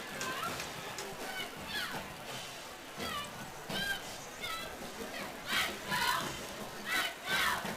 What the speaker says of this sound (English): But the crowd is still filing in here at Alumni Stadium.